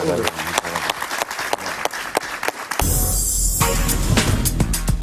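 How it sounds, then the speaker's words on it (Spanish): A television studio audience breaks into loud applause for guest Javier, a burst of dense clapping that starts abruptly and holds steady, with a voice talking over the start of it. "Un aplauso para Javier."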